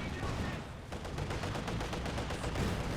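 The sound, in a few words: mortar fire in the video game Company of Heroes 2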